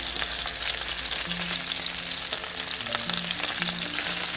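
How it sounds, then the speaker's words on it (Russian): Steady loud sizzling of chicken breast frying in a hot pan over medium heat, a continuous crackle and spatter with no voices. "И жарим где-то еще 3 минутки с другой стороны до красивой золотистой корочки на среднем огне."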